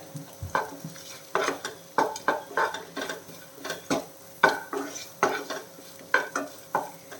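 Grated coconut and tamarind stirred and roasted in a pan, a regular series of scraping strokes roughly every half second over a faint sizzle, close and clear with no talk.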